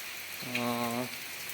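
Rain falls outside as a steady, even hiss that lasts the whole stretch, with a brief droning tone rising over it midway before fading back into the rain.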